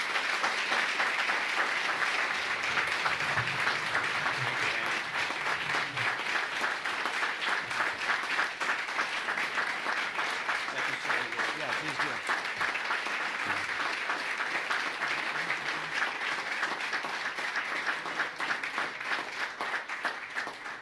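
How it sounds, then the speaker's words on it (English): Audience at a town board meeting applauding the VFW post, dense sustained clapping that holds steady for about twenty seconds before fading slightly at the end. "Could we have a round of applause for the VFW?"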